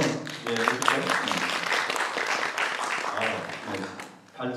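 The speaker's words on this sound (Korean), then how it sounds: "박수를 한번 해주세요" Audience applause welcoming a professor at a river restoration forum, a broad clapping wash with a voice talking over it throughout.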